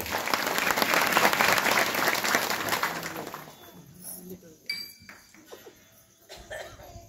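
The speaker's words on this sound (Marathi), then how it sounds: "तर एका टाळ्यांचा गजर जोरात होऊन जावा." A kirtan audience breaks into loud, dense clapping that holds for about three seconds, then thins out and fades into a quieter hall with scattered claps and faint background voices.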